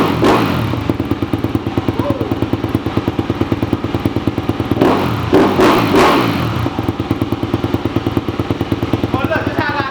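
A cold Honda CRF250R dirt bike engine idles roughly with a steady rapid pulse, then revs up in several throttle blips near the middle, loud and close, with no talk over it.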